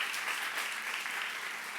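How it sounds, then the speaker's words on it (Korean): Church congregation applauding during a Korean youth-service sermon, a steady dense wash of clapping that runs throughout without pause. "미션 박수 하세요."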